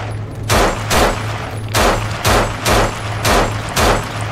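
Gunfire from weapons in the zombie shooter video game No More Room in Hell, seven loud evenly spaced shots about half a second apart over a steady low hum, with no talk.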